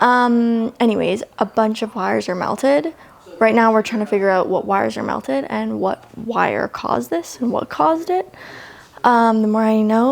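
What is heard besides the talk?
No everyday noise stands out behind the speech.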